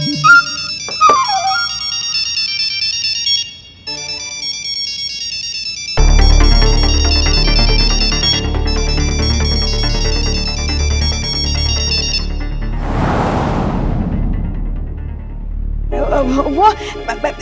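A mobile phone ringtone plays loud and close, a repeating tonal melody running for most of the stretch, with a brief sweep of noise and voices partway through.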